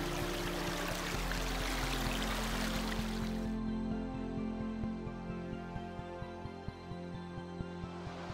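Small stream of water on the Appalachian Trail, a close steady rushing flow that suddenly drops to a softer trickle partway through, with faint regular ticks underneath.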